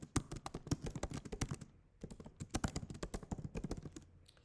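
Typing on a computer keyboard in two quick bursts of crisp, close key clicks separated by a short pause, with no talking.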